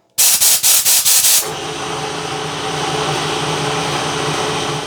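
Retractable 10-metre workshop air hose from Giraffe Tools pulled off its reel, with a quick series of loud ratcheting clicks followed by a steady whirring rumble as the hose keeps unwinding, close and without talk.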